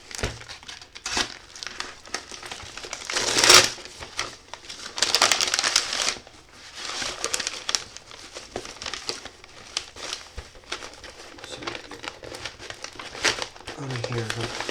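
Crinkling and crumpling of a taped, bubble-wrapped package holding a 1/72 scale model kit being unwrapped, close and irregular with louder bursts, while a person talks throughout.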